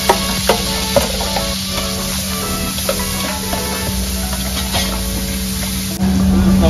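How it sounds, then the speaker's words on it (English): Chopped onion, celery and carrot sizzle steadily in a hot pan for lasagna sauce, with a few sharp stirring clicks early on and the frying swelling louder near the end; no talking. "Now I'm going to add onion chop, celery chop, and carrot all together."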